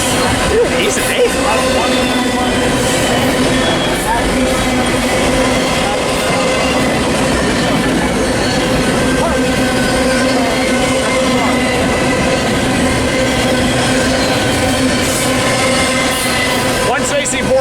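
Two freight trains passing at Commerce, Fullerton, making a loud, continuous rumble with wheel squeal and clattering railcars throughout, with voices speaking over it.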